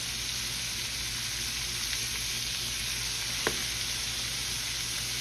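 Steady sizzling and crackling of chicken livers frying in hot oil, with a single sharp pop partway through; no voices.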